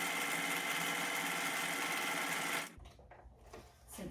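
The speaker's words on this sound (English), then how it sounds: "stitching pretty close to my original seam." A sewing machine top stitches a fabric face mask with a fast, steady mechanical whir for over two seconds, close by, then stops and leaves quiet handling noise.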